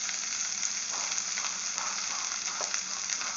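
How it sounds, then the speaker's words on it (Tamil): Curry leaves sauté in a pan for a curry leaf thuvaiyal, giving a steady, close, continuous sizzle with faint stirring crackles throughout and no talking. "இப்போ இந்த கருவேப்பிலை வந்து பாருங்கள் நல்லா வதங்கிடுச்சு"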